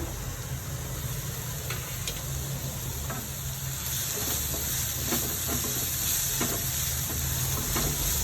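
Onions sautéing in hot oil, a loud continuous sizzle and hiss up close with occasional stirring clicks, steady throughout.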